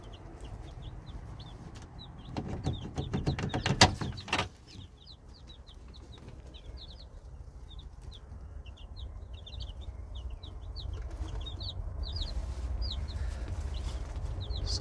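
Newly arrived baby chicks from Cackle Hatchery peep steadily in a brooder, a dense stream of high chirps over a low hum, with a brief louder rustling bump partway through.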